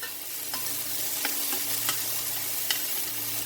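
Minced garlic sizzling in a pan for fried rice, a constant close hiss of frying with a few sharp stirring clicks spaced across the clip.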